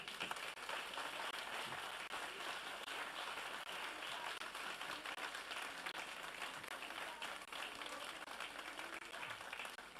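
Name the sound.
church congregation applause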